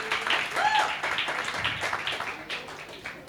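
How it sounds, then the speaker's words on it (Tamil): An audience claps at a women's day celebration, a dense burst of applause that fills the room and then thins out, with voices faintly mixed underneath. "இன்னொரு வாட்டி பலமாக கைத்தட்டலாமா?"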